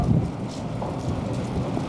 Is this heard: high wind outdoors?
yes